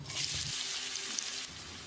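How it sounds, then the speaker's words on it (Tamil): Three large chopped onions with fennel seeds sizzle and fry in hot oil in a pan for a chicken curry, a steady close crackling hiss with brief stirring scrapes and no talking. "வெங்காயத்தை நல்லா பொன்னிறமாக வதக்கிடலாம்"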